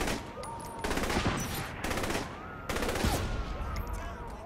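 Sniper and automatic gunfire in the open-world game Saints Row The Third, dense rattling bursts of shots in several long volleys, loud and close, with faint game sounds between bursts.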